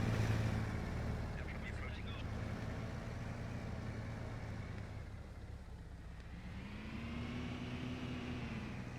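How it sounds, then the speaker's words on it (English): Whining engine of a technical vehicle in a multiplayer war game, a steady droning hum with shifting pitch heard at a distance, mixed with background game ambience and no clear voice over it. "I hear the whine of a technical here to the northeast, northwest."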